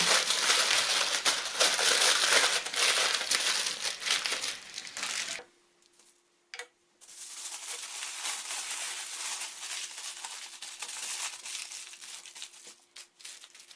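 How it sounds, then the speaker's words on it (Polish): Aluminium foil crinkling and rustling loudly up close as it is wrapped tightly around hot pork tenderloins, with a short quiet gap midway before more crumpling. "Gorące polędwiczki kładę na aluminiową folię, na jej świecącą stronę i szczelnie"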